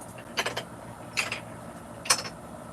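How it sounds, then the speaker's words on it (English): A single marble rolling along a wooden marble track, heard as three short bursts of rattling, clicking rolls spaced under a second apart, fairly close and moderately loud, with no speech. "that's the sound of a marble for you"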